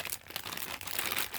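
Small plastic bag crinkling and rustling up close, a quiet continuous papery crackle of handling with no voices.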